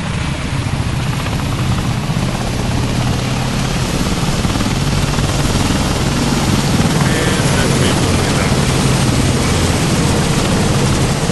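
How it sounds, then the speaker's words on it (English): A helicopter in a video game whines through its engine start and then holds a steady, loud rotor and turbine drone. The broadband roar stays fairly even from start to finish, with no talking over it. "I'm just going to turn the old engine on."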